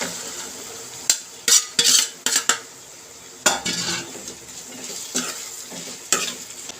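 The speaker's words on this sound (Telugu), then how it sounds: "ఉల్లిపాయలు అయితే మగ్గిపోయి ఇప్పుడు గోరుచిక్కుళ్ళు వేసుకుందాం." Cluster beans tipped into a pan of frying onions, with a steady sizzle broken by several sharp spoon clinks and scrapes against the metal pan, close and fairly loud.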